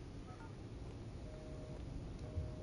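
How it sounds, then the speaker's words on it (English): A phone being dialed in the video game Hitman, in a Berlin mission: a few faint, short dialing tones over a low steady background hum. "Gotta contact Olivia on my phone."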